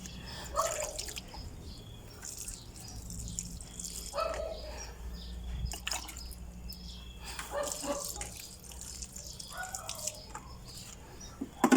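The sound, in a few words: water dripping from watered potted plant into tray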